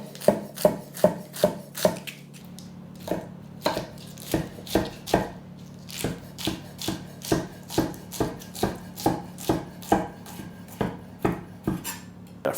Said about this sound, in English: Those leaves we've saved and washed can now get shredded